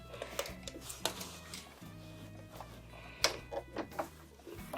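A sewing machine stitches fabric for a small zippered pouch, starting with a backstitch: a steady mechanical whir with repeated clicking needle strokes, close and moderately loud, with brief pauses between runs.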